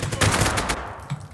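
Gunfire in the Zero Hour shooter game sounds as a loud close burst of rapid shots that fades out partway through, with a final shot near the end.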